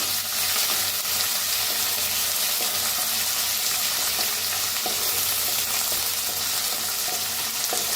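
A ground paste of garlic, green chili, ginger and coriander roasting in a hot pan, producing a loud, continuous close-up sizzle with faint stirring scrapes and no talking.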